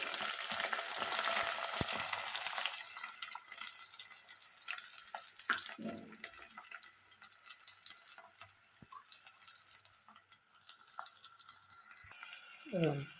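Onions fry for a crab curry, a loud sizzle bursting at the start and then settling into a quieter, steady crackle with a few scattered clicks and a brief faint voice.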